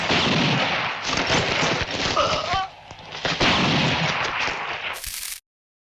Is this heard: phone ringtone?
no